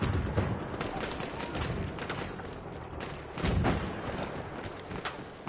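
Gunfire in a competitive online shooter match, rapid volleys of shots in dense bursts with a louder flurry midway, while players talk over it.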